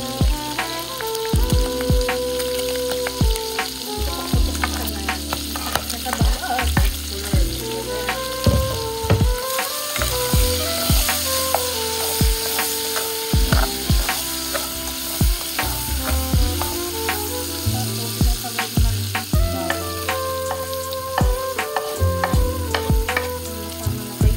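Garlic sizzles steadily in a hot pan for the whole stretch, with frequent sharp clinks and scrapes as a utensil stirs it against the metal. Rain falls outside on a wet Monday.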